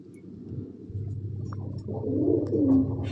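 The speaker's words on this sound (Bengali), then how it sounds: "এটা মাদি পায়রা সেকশন, যেসব মাদি পায়রা থাকে" Female pigeons coo in a pigeon loft, soft low repeated coos rising toward the end over a constant low background hum, with no talking.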